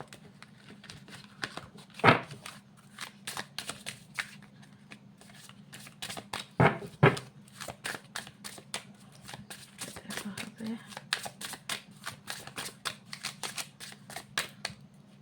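Playing cards are shuffled for a card reading, a steady patter of quick papery riffles and flicks with a few louder snaps, heard close up over a low background hum.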